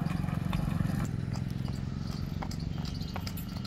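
A mare used for wedding processions walks on a hard surface, her hooves clip-clopping in a steady, rhythmic pattern at close range, with light background noise and no talk.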